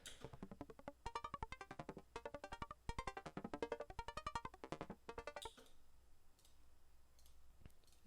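Sparkly synth layer from an OP-1 synthesizer: rapid, bright plucked notes repeat in quick bursts, clear and prominent, for about five seconds, then stop and leave only faint residual noise.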